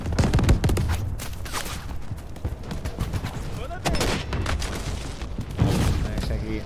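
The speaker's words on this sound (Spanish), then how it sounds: "Te están pegando unos tiros ya." Gunfire in the shooter Delta Force, with rapid bursts of automatic fire and sharp shots coming in clusters throughout, loud and close, as players talk over it.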